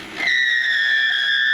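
A sudden high, sustained squeal as the end of a wooden whistle workpiece rubs while turning on a wood lathe, ringing out steadily for over a second after a brief scrape.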